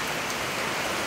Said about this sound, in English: it's raining like crazy out there.